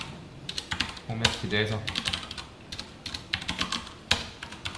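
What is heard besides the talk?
typing code on a computer keyboard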